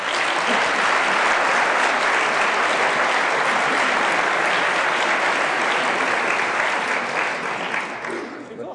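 A large audience in an MIT auditorium gives sustained, loud applause, a dense continuous wash of clapping that holds for several seconds before tapering slightly at the end.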